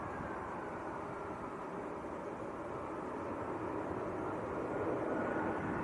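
An airliner from Brussels touching down at Manchester Airport produces a steady broadband jet roar, distant and even throughout, with no talking.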